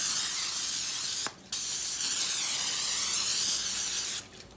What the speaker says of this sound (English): I'm gonna spray it with some cooking spray